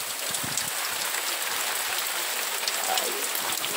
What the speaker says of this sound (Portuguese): E a chuva acontecendo.